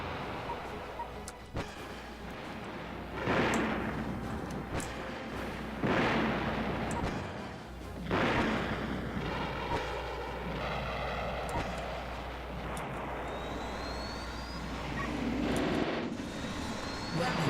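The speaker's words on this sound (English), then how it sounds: "Explosion." Explosions in the video game Battle Engine Aquila boom repeatedly, several loud blasts spaced a few seconds apart, mixed with roaring aircraft engines and scattered gunfire.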